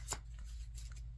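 A quick, quiet riffle of tarot cards being shuffled, a few soft flicking bursts heard up close.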